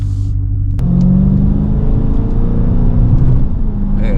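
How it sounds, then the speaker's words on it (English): A Dodge Scat Pack V8 rumbles loudly close up, its deep exhaust note holding a steady, throaty drone with a slight rise in revs, heard from inside the car on a morning drive. "that Scat engine sounds so good"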